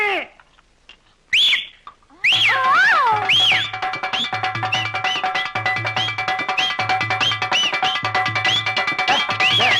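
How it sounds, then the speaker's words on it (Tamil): A person whistles loudly in a comedy scene, with a few short rising whistles followed by a long run of quick repeated trilling whistle notes over a pulsing low beat. "டேய் விசில் அடிக்காதடா"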